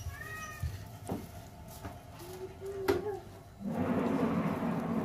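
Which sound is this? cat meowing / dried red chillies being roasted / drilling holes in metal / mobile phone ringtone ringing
cat meowing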